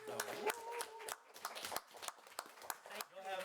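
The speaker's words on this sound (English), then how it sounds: "we'll give you another round of applause" Brief round of applause at a board meeting, a cluster of sharp hand claps rising and fading in bursts, fairly close, with some voices mixed in.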